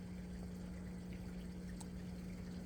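Water surges and pours steadily into a large aquaponics flood-and-drain growbed stocked with bluegill, filling it up with a constant rushing, gurgling wash over a low pump hum, no talking.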